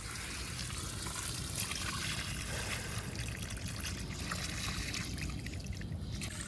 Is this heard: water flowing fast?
yes